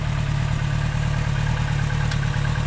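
A motorcycle engine idles in neutral at a riding lesson, a steady low throbbing rumble that holds evenly and close throughout with no other sound over it.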